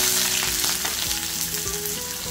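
Chopped onion fries in oil with a steady close sizzle, broken by a few soft stirring scrapes and faint tonal hums in the background.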